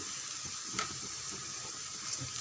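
Sliced onions sautéing in oil in a pan, giving a soft steady sizzle with faint stirring scrapes, quiet and unbroken throughout.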